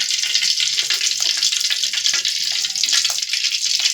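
Oil with ghee and coconut oil heating in a pan, giving a loud, dense, continuous hiss and crackle that holds steady throughout without speech.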